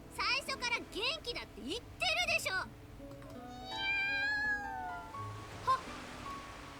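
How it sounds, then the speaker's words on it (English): A black cat in The Fruit of Grisaia visual novel gives several clear, close mews and drawn-out meowing calls, with brief voice-like chatter early on over a quiet background. "The black cat from the other day appears from somewhere or other, purring loudly."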